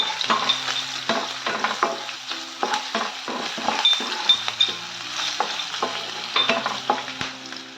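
Whole cloves and cardamom pods fry in oil, crackling under a steady sizzle. A utensil scrapes and taps against the pan in an irregular rhythm throughout, close up, with no talking.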